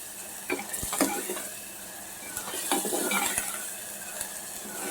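Chicken stirred in a pan with ginger garlic paste and tomato for a Rayalaseema-style country chicken curry, soft sizzling under scraping and clinking of a utensil against the pan in irregular strokes, close and fairly quiet.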